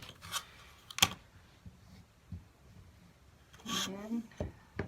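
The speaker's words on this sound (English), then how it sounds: "I'm going to cut it once like this." Fabric being cut for a quilt block, with soft scattered snips and rubbing at close range and a couple of sharper clicks, while someone talks quietly between them.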